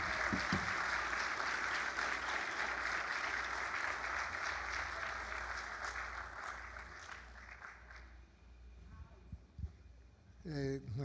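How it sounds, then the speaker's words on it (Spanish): Church congregation at a Sunday service applauding, a dense wash of clapping that swells and then gradually thins and fades, with a voice emerging near the end. "Como sé que ese aplauso es para el Señor, que sea más fuerte."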